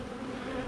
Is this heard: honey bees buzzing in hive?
yes